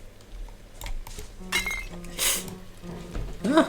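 Glass clinks and breaks in a video game, with several sharp chinking hits and bright crashes scattered over a few seconds.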